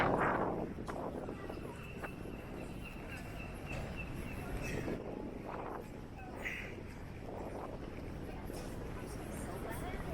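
Wind gusting on a cold, windy day in Blackpool town centre, heard as a steady broadband rumble buffeting the microphone with irregular surges and a few brief higher sounds.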